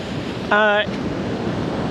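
Sea waves wash onto the shore at Sitio Laoag, Barangay Maloma, San Felipe, Zambales, a steady broad roar mixed with wind noise, broken midway by a short, loud tonal honk.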